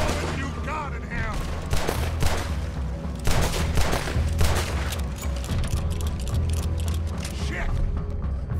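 Gunfire in the video game Red Dead Redemption 2, a loud, sustained fusillade of overlapping rifle and pistol shots with sharp cracks and mechanical clatter, mixed with shouting voices.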